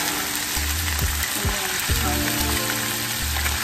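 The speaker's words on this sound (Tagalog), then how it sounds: "iluluto mo natin sa olive oil" Strips of beef fry in olive oil in a pan, a dense close sizzle with crackling spatters and a few stirring scrapes, steady throughout with no talk.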